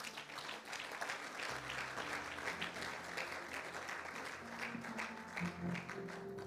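Church congregation applauding during a Sunday worship service, a steady dense wash of clapping throughout with music playing underneath.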